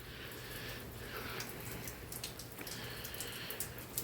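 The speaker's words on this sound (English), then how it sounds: "And it's also it's raining out." Steady rain falls outside a garage at night, a soft continuous hiss with scattered faint drips, moderately distant and alone without any talking.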